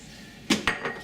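Metal spoon clinks and scrapes against a pot of pork pozole rojo being stirred, three quick knocks spaced about a fifth of a second apart, close and fairly clear.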